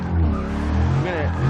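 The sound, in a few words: Lexus IS F braking hard on a race track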